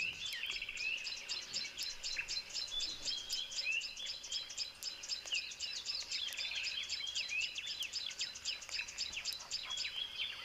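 Wild birds sing in a natural setting, with rapid repeated chirps and trills layered steadily over one another, fairly faint and distant, with no voices.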